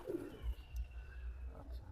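Indian Madrasi high-flying pigeons coo in low, soft, repeated murmurs close by, a steady throaty rumble with no voices.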